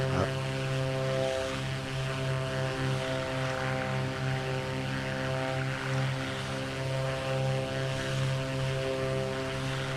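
A propeller airplane engine drones steadily in Microsoft Flight Simulator during a flyover of Mount Shasta, a continuous loud hum with strong tonal bands that stays even throughout, with no pauses.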